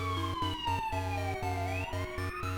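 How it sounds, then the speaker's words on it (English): Siren tones play in The Legend of Zelda: Oracle of Ages, a chiptune-style wailing sweep gliding up and down over a pulsing, rhythmic bass pattern, loud and continuous with no talk. "Nice sirens."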